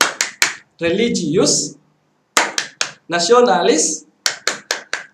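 Bursts of sharp rhythmic Scout-style hand clapping in short patterned groups, alternating with loud chanted speech from a group.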